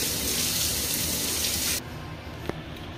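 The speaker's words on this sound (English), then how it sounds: "You just need to clean with the water thoroughly." Running tap water rinses metal kitchen chimney parts, a loud steady splashing hiss that stops abruptly partway through, followed by a faint clink.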